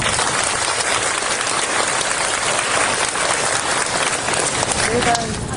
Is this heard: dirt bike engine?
no